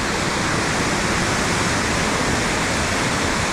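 Steady broadband roar of Langvoku waterfall in Karbi Anglong, Assam, a dense continuous rush of falling water filling the whole clip with no voices over it.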